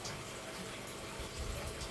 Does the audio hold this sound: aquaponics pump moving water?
yes